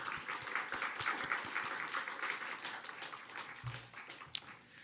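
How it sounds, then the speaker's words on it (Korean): A church congregation at a Korean dawn worship service claps in encouragement, producing a faint, fairly dense patter of hands that carries on for several seconds, with one sharp knock near the end. "격려의 박수 한번 하도록 하겠습니다"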